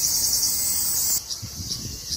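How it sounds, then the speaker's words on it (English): Cicadas, big semis in Okinawa, buzz in a loud high-pitched drone that drops in intensity and pulses unevenly after about a second, with faint low rumbles underneath. "Big old cicadas. We call them semis out here. Louder than a bird."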